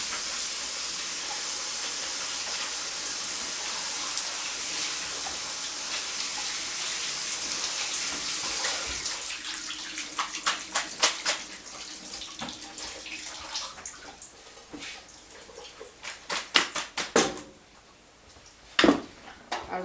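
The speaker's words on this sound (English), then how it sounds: "let me run these under some hot water." Hot tap water streams over lasagna noodles in a kitchen sink, a steady loud hiss that turns into uneven splashing and spattering bursts toward the end, with no talking.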